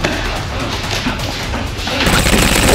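Toy gel blasters pulled from a bin fire in a rapid, close, loud stream of shots that builds and grows sharper toward the end, with no talking over it.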